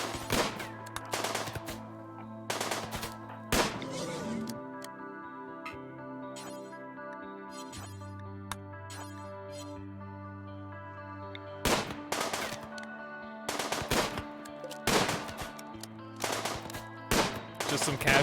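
Bursts of gunfire from the video game RimWorld, several rapid volleys separated by pauses, loud and sharp over a steady backdrop of game music.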